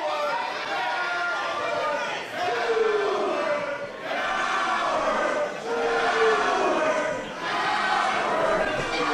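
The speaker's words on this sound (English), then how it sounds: "you hear the crowd referring to Jafar as a coward" A wrestling crowd at a live show chants in unison at a wrestler, repeating a two-beat taunt in rising and falling waves about every two seconds, with general crowd chatter beneath.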